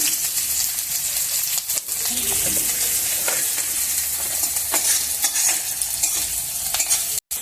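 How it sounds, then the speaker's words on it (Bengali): Onions hit hot oil with a loud, steady sizzle that continues throughout, broken by occasional stirring scrapes and clinks. "তেল গরম হয়ে গেছে তো দেখো পেঁয়াজ দিয়ে দিচ্ছি"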